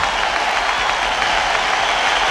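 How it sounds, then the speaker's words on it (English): Steady broadband clapping, a continuous wash of hand claps at even loudness for a couple of seconds with no voices over it. "Let's give a hand clap to Jania"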